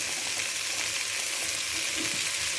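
Chopped chayote, brinjal, radish and carrot sauté in a hot pot for bisibelebath. A dense, even sizzle runs throughout, loud and close, with faint stirring and no voices.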